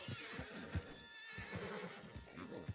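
A horse in the Red Dead Redemption 2 video game neighs and whinnies over a few seconds, its calls mixed with hoof clops and faint game background sound.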